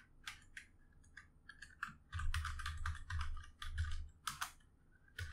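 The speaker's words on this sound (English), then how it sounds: "I don't like typing, man." Fingers type on a computer keyboard in quick irregular bursts of crisp key clicks, close and fairly quiet, with a low hum underneath and no speech.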